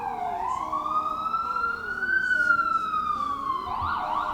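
An emergency vehicle siren wails steadily and loudly nearby, rising and falling in a long sweep over road traffic noise.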